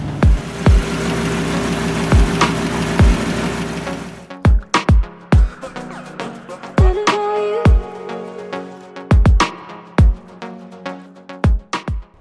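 Dodge Viper GTS with a rebuilt Tremec T56 transmission running in sixth gear, a steady engine hum under repeated sharp clicks and knocks, the drone cutting out midway to leave scattered clunks and quieter mechanical sounds.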